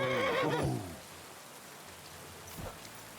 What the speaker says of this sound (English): Horse coming through.